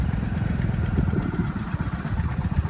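A tractor engine running at a rural water-supply site near a dera, a continuous rough mid-pitched chugging drone heard close and steady throughout.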